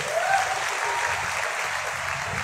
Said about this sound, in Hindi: तो एक बार हमारे सर्वशक्तिमान परमेश्वर के लिए जोरदार तालियां